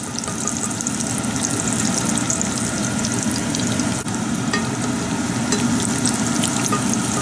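Cashews frying in ghee for an Indian chicken curry, a steady dense sizzle and crackle running unbroken from start to finish, close and fairly loud, with no voices over it.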